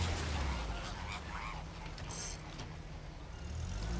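Flamingos take flight in the video game Uncharted: The Lost Legacy, with a few honking bird calls over a steady, dense wash of ambient jungle noise, moderately loud throughout.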